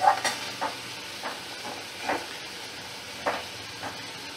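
Okra and potatoes stirred in a pan with a splash of water, giving faint, soft scraping strokes at an irregular pace over a low, steady simmering hiss.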